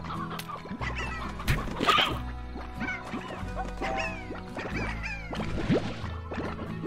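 Video game hens cluck in quick, overlapping bursts, busy and close, with scattered higher chirps throughout.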